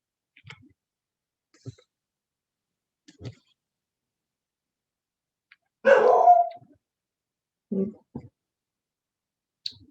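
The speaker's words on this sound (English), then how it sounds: "Excuse the dog." Dog barking indoors, a few short scattered woofs and one longer louder bark in the middle, close and fairly loud against otherwise quiet surroundings.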